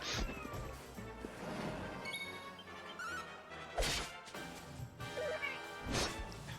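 Saber cats from the video game Dragon Quest XI, with repeated cat-like snarls and yowls over busy battle music and crashing hit effects, loud and up close, with no talk.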